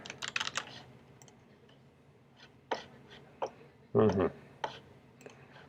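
A password being typed on a computer keyboard, a quick burst of key clicks, then scattered single taps and a short cluster of heavier presses, close and crisp in a quiet room.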